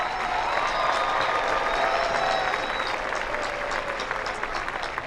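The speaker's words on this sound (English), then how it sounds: "Please give a round of applause to the Woodcreek staff." A graduation audience applauds the school staff, a dense, steady wash of clapping filling a large space, with faint scattered cheers over it.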